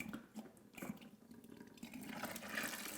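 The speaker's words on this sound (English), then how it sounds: "The water is now flowing down into the bucket." Aquarium water from a gravel siphon runs into a bucket, a steady, faint gurgling flow heard up close with no voices.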